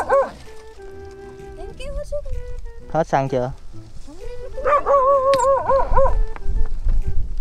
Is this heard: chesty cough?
no